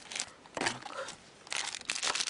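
KHL trading card packs being opened, with bursts of crisp foil crinkling and tearing in three close, loud clusters and brief pauses between them.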